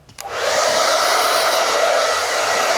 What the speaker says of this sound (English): Okay, so then take a hairdryer.